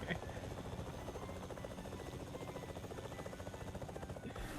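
Helicopter in the video game Fortnite, a continuous close rotor drone with a rapid chopping flutter, steady and moderately loud, with a person talking over it.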